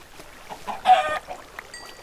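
A short, loud burst of clucking from a chicken in the video game Minecraft, heard alone over faint background game ambience.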